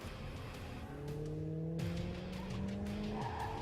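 A car races toward people in a horror film scene, its engine droning steadily with a rising whine and tire screech over continuous background noise, heard at moderate distance without talk.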